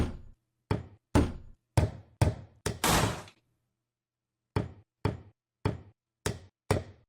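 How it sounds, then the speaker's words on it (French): Hammer knocks in a mobile phone game: a run of sharp, dry wooden thuds in steady rhythm, a short rough scraping burst, a pause, then more evenly spaced knocks, close and loud with no voices. "Le marteau."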